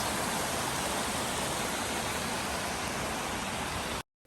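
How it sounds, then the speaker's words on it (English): Lithonia waterfall and creek rushing steadily, a dense, even roar of falling water close by that cuts off abruptly near the end. "Back to the waterfall."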